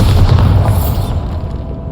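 A loud Bombarda blasting spell explosion from Hogwarts Legacy erupts with a deep booming burst, then rolls off into a rumbling decay over about two seconds, with no talk.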